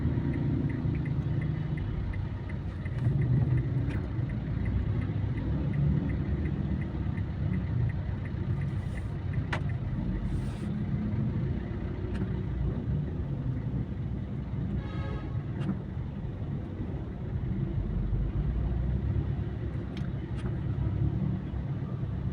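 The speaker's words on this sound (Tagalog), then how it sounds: "sobra pang traffic dito sa may circle po, malapit po sa Visayas Avenue" Heavy road traffic rumbles continuously near the Visayas Avenue circle, with a dense wash of engines and passing vehicles, occasional faint horn-like tones over the steady roar.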